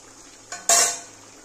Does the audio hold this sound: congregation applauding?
no